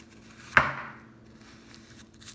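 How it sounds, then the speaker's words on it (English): A single sharp knife chop through an onion on a cutting board while it is sliced into circles, one crisp close thunk followed by quiet. "Next, cut up some onion."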